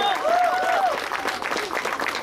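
A crowd at an outdoor mall stage concert in Santiago applauds for a singer-songwriter, a brief burst of clapping heard under an announcer's voice.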